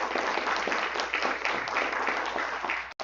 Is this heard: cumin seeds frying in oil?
no